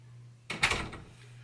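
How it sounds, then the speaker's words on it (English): A door closes indoors with a short dull thump and brief rattle, close by, over a steady low hum. "All right, close the door"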